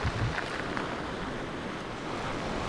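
Wind blows by the sea at a rocky bay in Crimea, a steady broadband rush with surf-like wash and microphone buffeting, close and fairly loud, with no talk.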